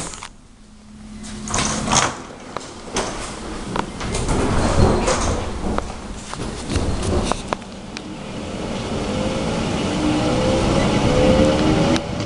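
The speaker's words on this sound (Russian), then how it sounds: "Осторожно, двери закрываются." Doors of an ER2R electric train closing inside the carriage, a loud clunking and sliding sequence followed by rising rumble and hum as the train starts moving, no talk heard.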